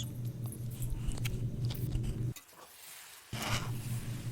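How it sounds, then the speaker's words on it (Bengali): Gadra snack frying in a pan at home produces a steady close sizzle that cuts out briefly for about a second before resuming, with faint clatter and no talk. "এই যে গাদরা ভাজা চলছে এখনও"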